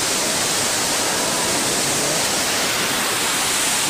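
A waterfall on the Amarnath Yatra mountain trail gives off a dense, continuous, loud roar of rushing water that holds steady throughout, with no voices over it.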